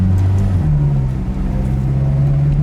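A 490-horsepower Cobra sports car pulls away, its deep engine note droning loud and close, shifting pitch once early on before holding a steady growl.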